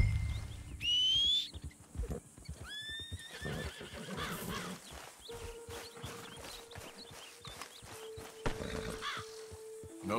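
A horse whinnies loudly twice, the second call longer, then hooves clip-clop steadily through ambient birds and wind while riding in Red Dead Redemption 2; no talk.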